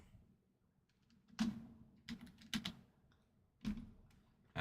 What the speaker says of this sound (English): I'm just typing up this filler real fast